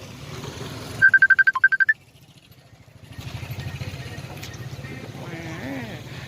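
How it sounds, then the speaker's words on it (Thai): A mobile phone rings at a Thai roadside crepe stall with a quick, loud pulsing trill lasting about a second, set against low engine rumble, with voices following. "ตั้งนานก็ไม่โทร พอเราถ่ายคลิปก็มีโทรศัพท์เข้าเนาะ"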